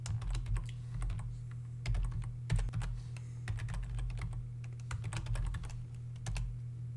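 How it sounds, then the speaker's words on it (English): Quick bursts of typing on a computer keyboard as a command is entered at a command prompt, close and clear crisp key clicks in uneven clusters with short pauses, no voices. "you could type md, and then you could type whatever folder you want to create."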